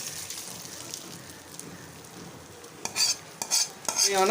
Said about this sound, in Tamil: அதில் தாளித்து வச்சதை கொட்டிடலாம்